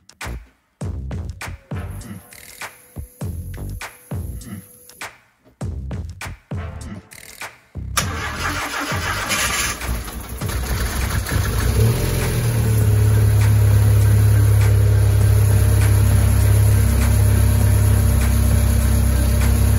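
A Volkswagen Lupo under restoration, after rocker-arm adjustment, cranks in choppy bursts, then catches and settles into a steady, loud idle with a low droning hum close by.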